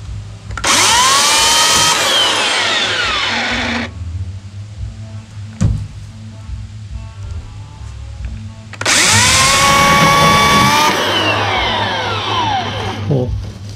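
An electric chainsaw trims a bush in two loud bursts of steady whining motor, each running about three seconds with rising and falling pitch, separated by a quieter stretch with a single sharp knock in between.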